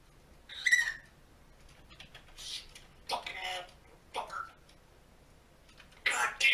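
A talking bird mimics human speech in short, squawky bursts with whistle-like notes, heard faintly amid quiet gaps.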